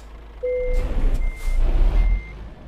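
A Scania truck in Euro Truck Simulator 2 reverses with a steady, repeating backup beep over its low engine rumble, with a brief hiss partway through.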